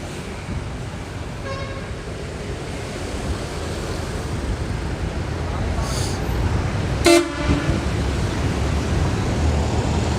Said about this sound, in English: That was a loud beep, beep, beep, beep.